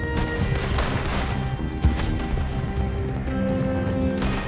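Gunfire in the Red Dead Redemption 2 video game: a dense, continuous barrage of shots and impacts with one sharper crack standing out, all loud and close within a busy mix.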